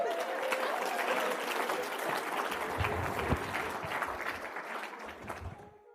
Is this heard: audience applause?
yes